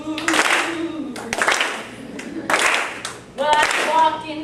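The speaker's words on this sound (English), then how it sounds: "Let's get a little clap going for me." Rhythmic hand clapping from an improv group performance audience, a few bursts keeping time while a performer talks and sings over them.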